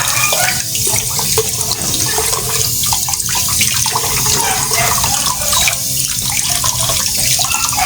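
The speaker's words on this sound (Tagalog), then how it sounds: "Hugasan mo natin siya maigi para mawala yung mga bula-bula." Running tap water splashing steadily as chicken feet are washed in a sink, loud and close throughout with no talking.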